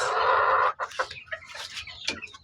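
Ruby Gold sweater gamefowl hen clucking in a backyard, a sustained loud call at first followed by a run of shorter, softer clucks and bird sounds.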